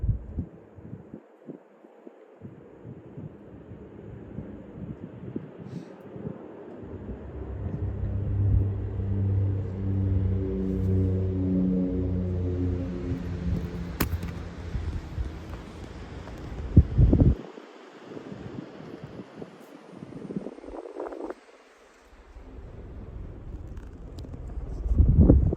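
A Casablanca Delta II ceiling fan with a textured rust finish runs with a low, steady motor hum and rumble, a breezy whoosh rising and swelling midway, then some handling knocks near the end.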